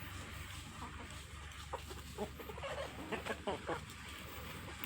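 Country chickens on a cross-bred native poultry farm cluck in short, irregular bursts close to the microphone, several calls rising over a low steady background hum.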